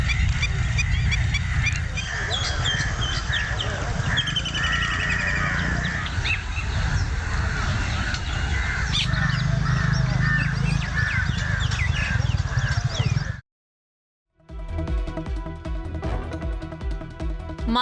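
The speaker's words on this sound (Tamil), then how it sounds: "நாரை உள்ளிட்ட பல்வேறு அரிய வகை வலசை பறவைகள் இங்கு கூடு கட்டி வாழத் தொடங்கியுள்ளன" A dense chorus of migratory birds, storks among them, calls at a lake where they nest, with overlapping honks and caws close by, a short break near the end, then more calling.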